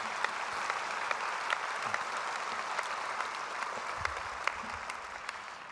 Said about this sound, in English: So if we could just give a little round of applause to the Kaboto Center.